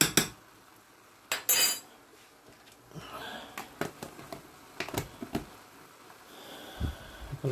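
A spoon scraping and knocking inside a pot while stirring grated carrot with milk powder for a carrot sweet, irregular close metallic clinks and scrapes with quiet gaps between.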